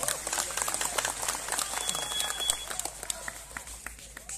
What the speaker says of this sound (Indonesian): Tepuk tangan untuk Ustaz Abdul Somad.